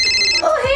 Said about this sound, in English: Somebody's calling you.